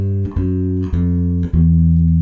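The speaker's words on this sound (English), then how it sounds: "the descending turnaround, let's check that one out." An electric bass plays a descending blues turnaround in A, stepping down through four sustained, separately plucked notes, clear and solo with no accompaniment.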